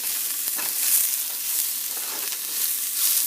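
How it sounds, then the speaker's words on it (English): Onion sauteing in a pan with little or no fat, a steady bright sizzle with soft stirring scrapes swelling and easing, close and constant with no talking. "just kind of sauteing the onion"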